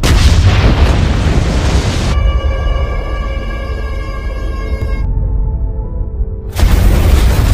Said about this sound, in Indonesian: Namun tak lama kemudian mobil mereka melindas ranjau darat yang dipasang musuh.